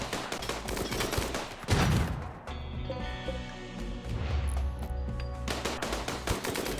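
Turret gunfire in the RimWorld video game: rapid, loud bursts of automatic fire rattling continuously across the scene, with a heavier impact thump midway, and no voices.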